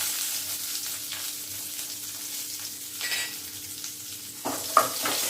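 Shallots and curry leaves sizzle in hot oil with mustard seeds, a close crackling hiss with scattered pops and a louder spatter burst near the end, no talking over it.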